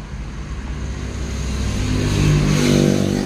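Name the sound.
car engine running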